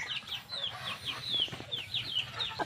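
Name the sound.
Aseel rooster clucking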